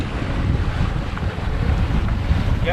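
A sailboat heads back to harbor at sea under steady wind, with continuous loud wind buffeting the microphone over rushing waves and water against the hull.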